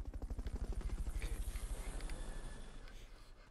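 A helicopter in the video game Metal Gear Solid: Peace Walker, its rotor thumping in fast, steady pulses that soften and fade into a lingering engine hum.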